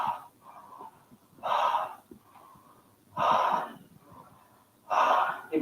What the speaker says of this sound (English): The second breath we do is a circulatory breath. So it's one big inhale.